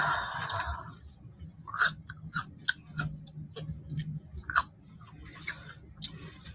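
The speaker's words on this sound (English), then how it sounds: "Is it demure to chew on chicken neck?" Close, crunchy chewing on a chicken neck, with irregular wet bites and sharp bone cracks spread over several seconds. The chewing is fairly quiet, with no talking.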